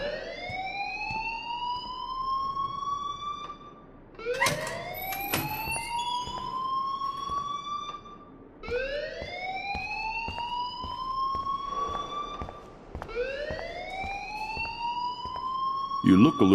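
Alarm in the video game Life is Strange, a rising, repeating siren-like wail that cycles roughly every four seconds, with voices talking over it.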